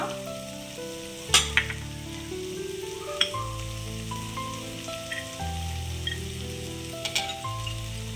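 Onion fries in hot oil with ginger and curry leaves, giving a steady crackling sizzle with scattered pops and a few clinks under a faint background hum.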